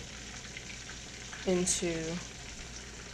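Buffalo chicken wings fry in hot oil with a steady, low sizzle throughout, while a voice speaks briefly over it in the middle.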